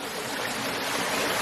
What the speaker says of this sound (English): we're at a waterfall on top of a waterfall